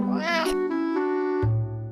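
A domestic cat gives a clear, close meow that bends upward and then settles, followed by a shorter, lower meow. Nothing else is heard.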